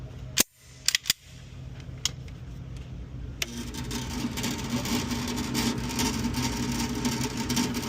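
Sharp, loud gunshots from a Mac 9 DS Comp pistol, a few quick reports in the opening seconds followed by a steady rustling, scraping background with no further shots.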